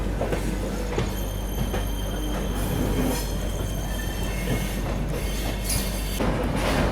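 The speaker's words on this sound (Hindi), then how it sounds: "एकदम पैरेलल छूट रही हैं दोनों गाड़ियां।" Two express trains pulling out side by side, the carriages rumbling steadily with squealing wheels and rhythmic rail clatter, loud and continuous throughout with no voices.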